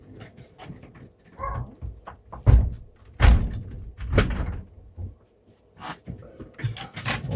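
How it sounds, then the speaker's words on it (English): Indoors, a door is pushed shut with two firm thuds amid shuffling and handling noises, while a dog can be heard faintly in the background. "Let's shut that door so I'll trap the dog's noise out."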